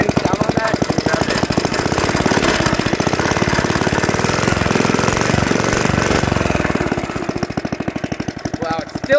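A Briggs & Stratton flathead engine that burns oil and draws air into the carburetor runs close by with a loud, rapid, chugging firing beat, its revs rising and falling through the stretch.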